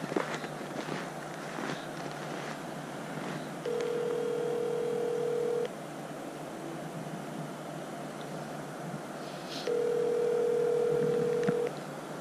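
Call ringing through to an iPhone lost in the snow during snowshoeing, heard as two long, steady ringback beeps several seconds apart over a quiet outdoor background.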